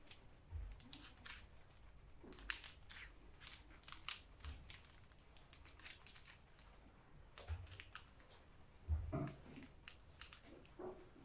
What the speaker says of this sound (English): you'll just pull the two layers apart and you'll just snip in between